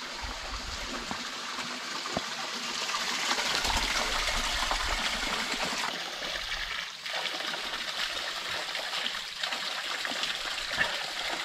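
Water rushes from a waterfall and a forest stream in Sri Lanka's Kandy area, a steady, close, broad hiss that swells slightly midway, with a few soft knocks and no talking.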